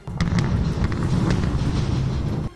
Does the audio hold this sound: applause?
no